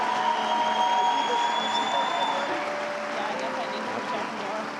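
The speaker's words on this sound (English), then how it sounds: "Round of applause, ladies and gentlemen." An audience at a college commencement ceremony applauds steadily, a moderate wash of clapping filling the hall that gradually eases off over a few seconds.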